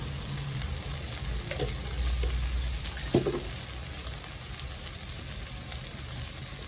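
Spiced vegetable samosa filling sautéing in a pan with chilli powder and garam masala, a steady close sizzle with a few soft scrapes and stirs, no voices.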